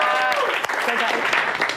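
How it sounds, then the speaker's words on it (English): An audience applauds at a fitness coaching team event, a dense wash of clapping that runs throughout, with a voice talking over the start. "Clap it up, clap it up,"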